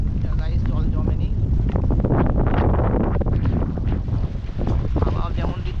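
Strong, steady wind buffets the microphone throughout a rainy ride, with heavy rumbling gusts and a broadband rush that stays loud and constant, dipping only briefly near the end.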